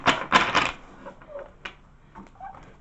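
A tarot deck being cut by hand gives a few quick, close card slaps and riffles at first, followed by softer faint shuffling taps.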